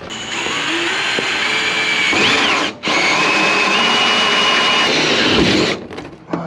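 A power drill whines loudly and steadily during a van ceiling install, cutting out briefly midway, then spinning up again before winding down near the end.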